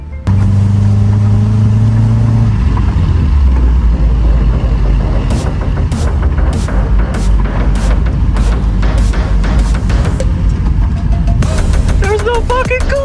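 A Subaru Forester XT with turbo fault codes idles and then pulls away, engine rumble steady and close from inside the cabin, with a series of sharp clicks and someone speaking toward the end.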